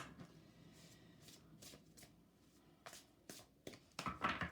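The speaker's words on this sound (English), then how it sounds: "I'm also going to lay out some oracle cards." A deck of oracle cards being shuffled by hand in a quiet room, a series of soft riffling bursts that grow louder and busier toward the end.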